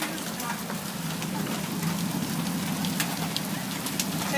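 Hail pouring down steadily during a hail storm in McAllen, Texas, a dense continuous patter on surfaces close by, with voices talking faintly underneath.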